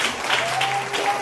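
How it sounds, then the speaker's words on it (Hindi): A church congregation claps together in a dense, continuous round of applause, loud and steady throughout with no voices over it. "जोर से हाथ उठाओ, ताली बजा के तारीफ करो।"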